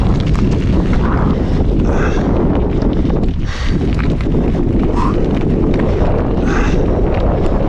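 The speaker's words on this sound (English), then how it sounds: "Too extreme wind." Strong wind buffets the microphone on a mountain at about 2248 m, a loud continuous roar with gusts rising and falling, with no talking.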